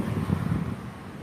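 Steady wind gusting across an open outdoor microphone after a storm has partly calmed, a low broadband rumble with soft swells and buffeting, continuous and fairly loud, with no talk.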